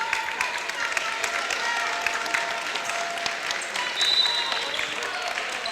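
Crowd applause fills a high school gym on basketball senior night, a steady dense clapping that swells briefly near the end, with some indistinct voices mixed in.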